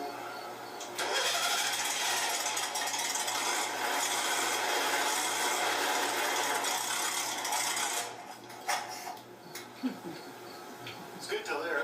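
A trike engine runs at a steady rough idle while the idle is adjusted, a continuous loud mechanical drone close by that fades near the end into some handling noises.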